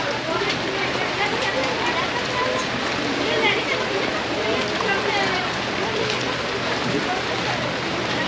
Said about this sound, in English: Dodging the rain here.